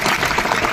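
Students at a school cultural event break into a dense, continuous round of hand clapping, a close and fairly loud wash of applause that holds steady throughout.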